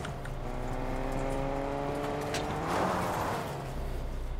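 A truck driving in the video game Fortnite, a steady engine drone with rising and falling harmonic whine, briefly swelling as it accelerates, heard alone without voices.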